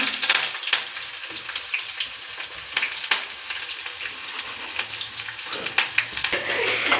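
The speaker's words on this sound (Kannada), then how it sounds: "ಕಟ್ ಮಾಡಿರೋಂಥ ಈರುಳ್ಳಿ, ಕರಿಬೇವು ಸೊಪ್ಪು, ಮೆಣಸಿನಕಾಯಿ ಹಾಕೋಣ" Chopped onion, curry leaves and green chillies hit hot oil in a pan, giving a steady close sizzle and crackle throughout, with occasional stirring scrapes and no talking.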